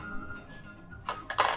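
A fork clinks against fine dishware at a sushi bar, two or three quick bright taps near the end after a quiet moment, close and crisp.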